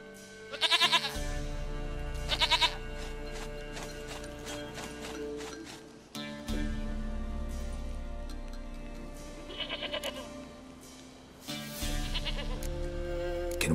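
Goat bleating in The Witcher 3: Wild Hunt on PS5, with several loud, quavering bleats in separate bursts over steady in-game ambience and music, no speech.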